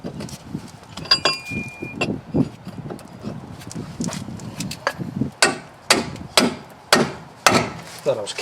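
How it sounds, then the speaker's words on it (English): An 8-pound hammer striking to free a control arm on a 2003 Chevrolet Impala; a series of sharp metallic blows, irregular at first then steadier, close and loud with no talk. "Just needed a bigger hammer. Had to get the 8-pound hammer out."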